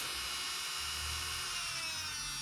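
A Makartt electric nail drill runs at maximum speed, giving a loud, steady high-pitched whine with a faint low hum beneath, held continuously and close by with no talking.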